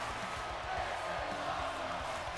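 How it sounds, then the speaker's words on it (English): A wrestling arena crowd in WWE 2K25 keeps up a broad, steady chant and roar, with rhythmic low pulses under the dense din throughout. "The crowd's chanting, "This is awesome.""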